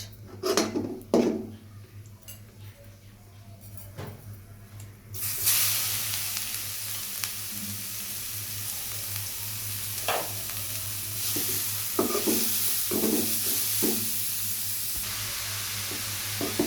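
Bay leaf, cinnamon and cardamom fry in a mix of oil and ghee for carrot halwa, a few sharp spoon scrapes and clinks against the pan giving way to a steady loud sizzle with intermittent stirring taps.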